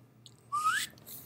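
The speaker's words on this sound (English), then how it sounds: "doesn't count if you don't make the whistling sound." A person gives a short rising whistle in a classroom lecture, one brief upward-sliding note followed by a faint breathy tail.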